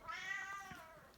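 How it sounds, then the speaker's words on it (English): A house cat gives a single soft, drawn-out meow indoors, faint and close, lasting about a second. "Excuse my little kitty."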